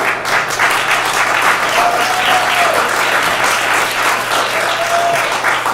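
An audience claps and applauds steadily for several seconds in a hall, dense and sustained throughout with no talk over it.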